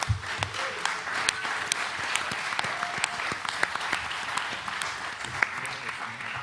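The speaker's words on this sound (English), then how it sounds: "Give him a warm round of applause." Audience applause for an artist introduced on a panel at the Rototom Sunsplash reggae festival, a sustained spread of individual claps, close and lively, with a crowd murmuring beneath.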